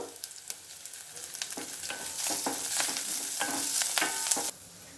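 A tempering with a pinch of asafoetida fries in a pan for mixed-greens dal, crackling and sizzling steadily up close with sharp popping ticks, swelling louder midway and then cutting off.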